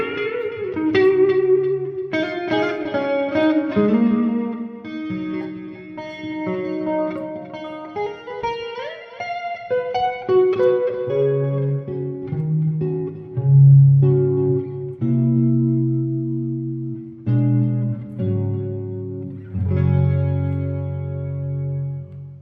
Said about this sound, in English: And then finally, the neck pickup by itself, and that sounds like this.